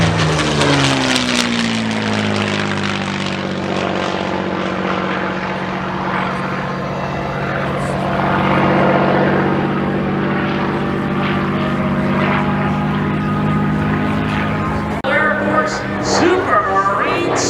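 Supermarine Spitfire warbird flying at an airshow, its propeller engine droning loudly and steadily overhead with a shifting pitch as it passes, and a brief crackle near the end.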